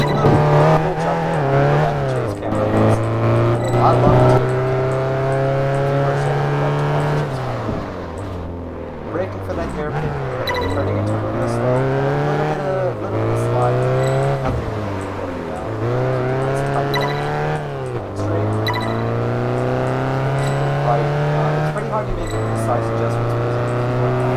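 A car engine in a racing video game drives through a mountain pass, revving up and dropping back through repeated gear changes. The loud, sustained engine drone runs under a person talking.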